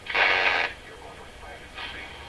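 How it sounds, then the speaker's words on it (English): A Rogers 11RA651 shortwave radio gives off a loud, high heterodyne whistle that fades after about half a second, then comes back more faintly near the end over low receiver hiss. "No, the heterodyne's still there."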